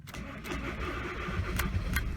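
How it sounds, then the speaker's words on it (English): The engine of a VW T5 van cranks and starts up nearby, a brief starter whirr catching into a steady, even idle that holds loud and close with no talk. "Now the engine's not running at the moment, so I'm just going to start it up."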